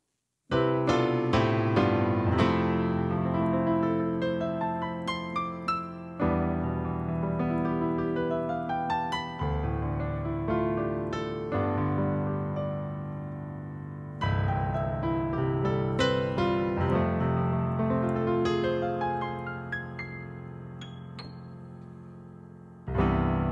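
Solo piano plays a smooth, flowing passage of rich sustained chords and gentle runs, warm and unhurried, with no voices.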